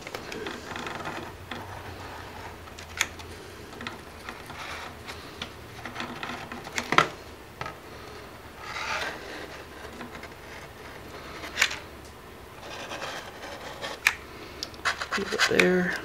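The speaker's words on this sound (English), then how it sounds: "I'm going to take tape and I'm going to tape different portions on just to make sure everything stays aligned." Tape is pulled and pressed onto parts of a foam model airplane fuselage, an A-10 Warthog build. Sharp scratchy rips and crackles stand out every few seconds over a quiet room background.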